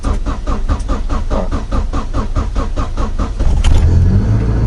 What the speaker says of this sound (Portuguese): Vou ligar o carro para vocês verem aqui